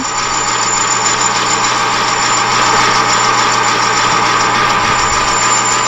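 Machining chatter while cutting metal coasters: a steady, loud, continuous grinding whine with a high ringing edge over a low machine hum, unbroken throughout.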